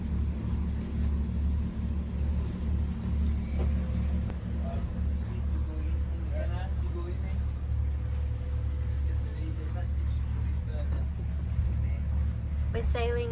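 A sailing boat motors back toward its home port in Queensland, Australia, with a constant low engine drone and throbbing hum running throughout, while someone talks over it.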